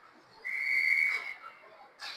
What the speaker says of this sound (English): And we've got a whistle.